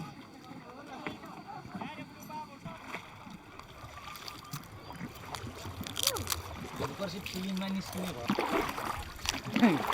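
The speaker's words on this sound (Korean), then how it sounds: "작은 보트 위에 올라 유유히 노를 젓노라면" A small rowboat is rowed across Phewa Lake in Pokhara, Nepal, with soft, irregular oar splashes and water lapping, faint at first and growing slightly louder, while people talk nearby.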